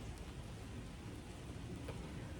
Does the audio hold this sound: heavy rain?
yes